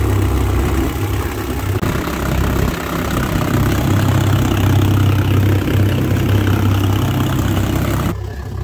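Large outboard boat motors, warmed up and being flushed with fresh water, run at a steady idle, a constant close droning hum that drops away abruptly near the end.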